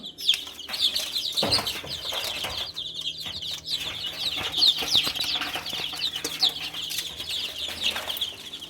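A flock of eight-day-old chicks chirps constantly in high, overlapping peeps, with occasional wing flutters and knocks. The chirping carries on steadily throughout.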